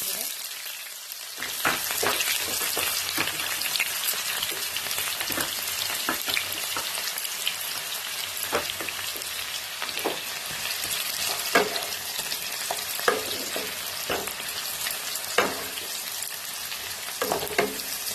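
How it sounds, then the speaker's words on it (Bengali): Onions frying in hot oil for a cauliflower korma give a loud, continuous close-up sizzle and crackle with occasional stirring clicks, steady throughout the long stretch, with no talking. "তেলটা গরম হয়ে গেছে, পেঁয়াজটা দিয়ে দিচ্ছি।"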